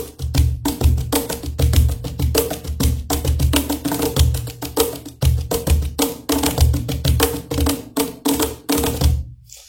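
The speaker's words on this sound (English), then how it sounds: "So if I were to play this cajon the way I play it, just to demonstrate," Cajon played in a fast, busy groove, dense rapid hand slaps and taps mixing deep bass thumps with crisp high snaps, loud and close for several seconds before stopping abruptly.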